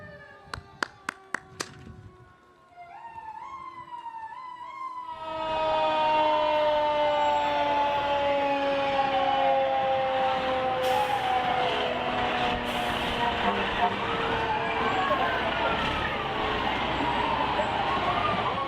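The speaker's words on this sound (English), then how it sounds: "now we hear the Bergenfield Fire Department under Chief Robert Burns coming up the avenu" Bergenfield Fire Department fire truck sirens coming up the avenue in a St. Patrick's Day parade: a few sharp horn blasts, then rising and falling wails that swell into a loud, sustained siren chorus with air-horn bursts over it.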